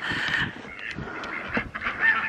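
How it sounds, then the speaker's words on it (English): Backyard ducks quack repeatedly at close range, a busy overlapping run of nasal honking calls with no talk. "I was trying to get a shot of the ducks."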